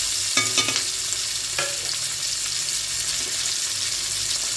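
Chilli frying in a hot pan, a dense continuous sizzle with a few sharp clinks and scrapes of a spatula near the start, loud and close, with no talking.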